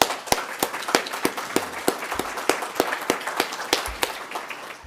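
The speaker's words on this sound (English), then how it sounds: "Let's give them a round of applause real quick" A small group claps for the speakers at a City of Moorpark immigration resources workshop, with distinct, uneven handclaps close by rather than a dense roar.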